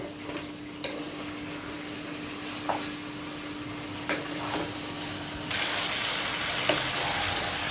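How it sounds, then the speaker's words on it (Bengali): Dhaba-style chicken kosha masala, seasoned with turmeric and salt, sizzles steadily in a pan while a spoon scrapes and taps the metal at intervals, and the frying grows louder toward the end; no talking. "এবারে এটাকে আবারও ভালো করে কষিয়ে নেব"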